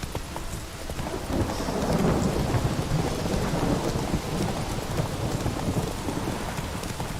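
Heavy rain pours and thunder rumbles in The Witcher 3 video game, a dense, continuous wash of rainfall with deep rolling thunder swelling underneath, loud and without talk.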